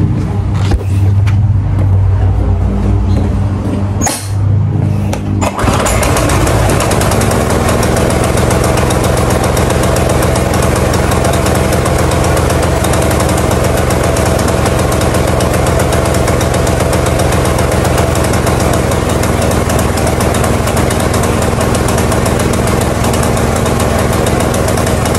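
A Craftsman small gasoline engine catches after a few pull-start tugs, then runs loud and steady with a rough, rapid chugging idle close by for the rest of the time.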